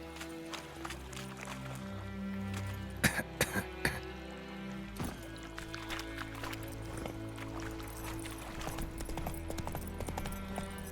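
Steady clip-clop of a horse's hooves trotting in The Witcher video game over a droning music bed, with a few sharper thumps midway.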